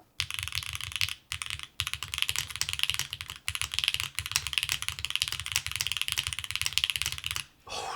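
Continuous fast typing on a Neo65 Core Plus mechanical keyboard fitted with Cherry switches and gaskets, with dense clacky keystrokes and a few brief pauses, close and alone.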